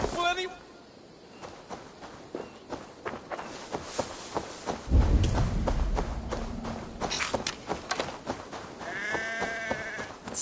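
Sheep bleating in Assassin's Creed Valhalla, a few wavering cries at the start and again near the end over clip-clopping hooves and footsteps, with scattered game noise between.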